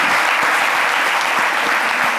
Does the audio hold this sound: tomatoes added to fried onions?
no